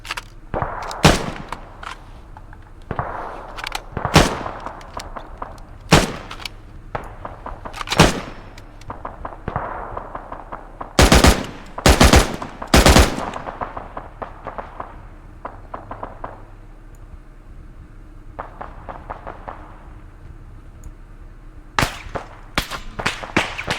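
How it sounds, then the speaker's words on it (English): Gunfire from hostiles among cargo containers at a shipping compound in a video game, sharp cracking shots arriving in scattered single reports and quick bursts, some loud and close, others fainter, with quiet gaps between. "Amongst the cargo containers, we've got hostiles taking shots at us."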